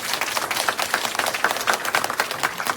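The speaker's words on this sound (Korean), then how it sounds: "박수로 그냥 인사만 부탁드립니다" A church congregation at a pastor's inauguration service claps in greeting, a short burst of rhythmic, fairly close clapping at moderate volume.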